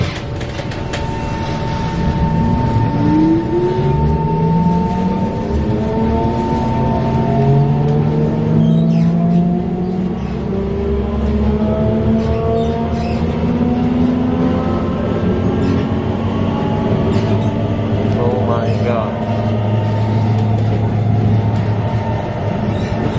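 An SMRT Kawasaki Heavy Industries C151 train's traction motor whines loudly, with rising and falling tones sweeping up and down as the train accelerates and slows, over a steady rumble of wheels on rail.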